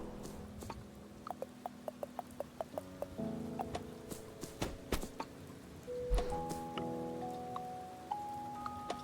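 Acid rain falls in the video game Doloc Town as a steady, soft patter with irregular bright drip ticks scattered through it, along with quiet tonal game sounds layered underneath.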